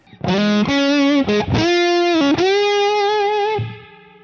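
A heavily distorted electric guitar with gain fully up and mid boost on plays sustained chords with a heavy wash of reverb, loud and alone, ringing out and fading at the end.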